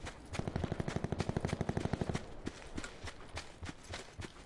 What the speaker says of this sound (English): I'm being shot up.